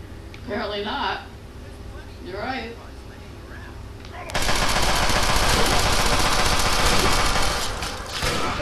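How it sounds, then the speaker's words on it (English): Automatic gunfire from a shooting range in the game Fallout 3 breaks out halfway through as a loud, sustained burst of rapid shots. Before it, whispery speech comes and goes over a quiet background. "No one's heard that gunshot."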